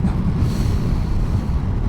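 Steady wind rushing and buffeting into the windscreen of a 2024 Moto Guzzi V85 Strada at speed, a loud continuous low roar with no voices.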